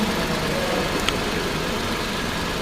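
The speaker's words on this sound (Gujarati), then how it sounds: "એન્જિન લઈ લ્યો કેટલું સાયલન્ટ છે, ચાલુ ગાડી છે." A car engine idles quietly with the bonnet open after servicing, a steady low hum running alone with no talk over it.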